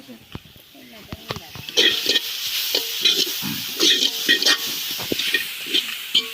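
Chopped carrots sauté in a pan at a home family feast, with an uneven sizzle and spatula scrapes heard under people talking.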